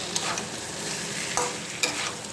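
Potatoes frying in a pan for aloo dum are stirred, a steady close sizzle with a few scraping stir strokes of the spoon across the pan, without talk.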